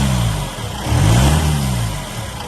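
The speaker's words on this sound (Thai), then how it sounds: "เดี๋ยวผมเร่งเครื่องให้ฟังนะครับ" A 2007 Isuzu D-Max Hi-Lander 2.5 pickup truck engine with manual transmission revs up from idle, swelling to a loud throaty roar around the middle before settling back down.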